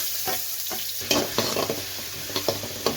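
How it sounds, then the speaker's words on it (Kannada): A large onion, cut into big pieces, fries in hot oil for homemade Chinese noodles, giving a steady close sizzle broken by several sharp scraping and clattering stirs of the pan. "ಎಣ್ಣೆ ಬಿಸಿಯಾಗಿದೆ. 1 ಈರುಳ್ಳಿನ ದೊಡ್ಡ ಸೈಜ್ನ ಕಟ್ ಮಾಡಿ ಸೇರಿಸ್ಕೊಂತೀನಿ"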